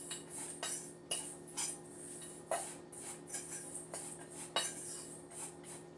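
Granola ingredients such as flaxseed and ground cinnamon are mixed in a bowl, with a spoon clinking and scraping against it in irregular taps over a low steady hum, no speech.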